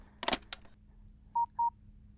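A brief clatter, then two short electronic telephone dialing beeps, evenly spaced and clear against a quiet background.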